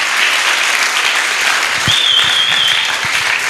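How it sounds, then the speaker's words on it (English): An audience claps steadily to welcome the returning officer, a Dean of Students, at a polytechnic student election event; dense, continuous applause fills the room with a faint high whistle-like tone partway through. "So let us welcome her with a clap."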